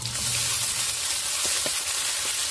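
Ginger and garlic fry in hot oil for a river bele fish curry, giving a steady, close sizzle with light stirring scrapes and no talk.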